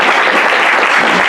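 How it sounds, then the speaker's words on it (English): Dense, loud applause from a crowd at a Brooklyn political rally, a continuous wash of clapping close by with no break. "please, round of applause for yourself"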